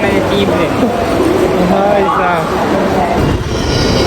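Busy railway platform at Howrah station with a crowded train, a continuous loud rumble of rolling carriages and wheel noise mixed with the murmur of many voices and people talking nearby.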